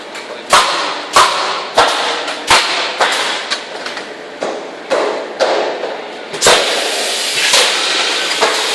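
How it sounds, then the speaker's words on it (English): A nail gun drives nails into timber studs of a house frame, a series of sharp, loud thumps at uneven intervals, roughly every half second to a second, with workshop noise between shots. "And he nails the dwelling on."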